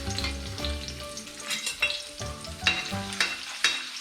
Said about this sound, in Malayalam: തേങ്ങാക്കൊത്തിട്ട് കൊടുക്കാം.